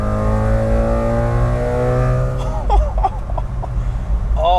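A street-ported rotary-engine Japanese mini truck with a Racing Beat exhaust drones loudly and revs close by, its pitch climbing steadily before dropping off, with someone talking over the latter part.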